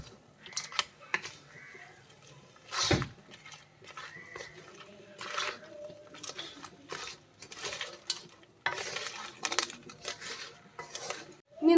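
Cooked crab being stirred into masala in a pan for a Kerala-style crab curry, with scattered clinks and scrapes of a spoon against metal and soft wet shuffling, close and uneven.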